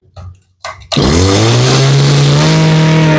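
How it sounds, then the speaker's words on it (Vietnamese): A used Japanese grass cutter's small engine is pull-started: two quick rope pulls, then it catches and settles into a loud, steady, close-up idle. "Đây rồi giật máy cô chú ơi."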